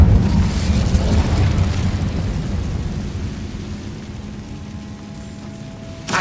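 The Incendio fire spell in Hogwarts Legacy on PS5 lets out a booming, rumbling blast that starts loud and slowly fades over several seconds, ending with a brief sharp hit.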